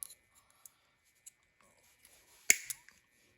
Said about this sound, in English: if you can get some needle nose pliers with some cutters like this, you can cut the pin off